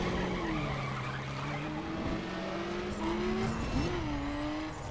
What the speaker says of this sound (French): On entendait le moteur de l'Impala alors qu'il était sur place.